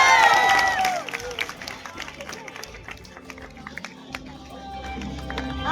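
Dense crowd applause and cheering at a packed Delhi University UPSC seminar in Satyakam Bhawan, loud sustained clapping with whistles at first, then scattered claps under crowd chatter and a voice on a loudspeaker.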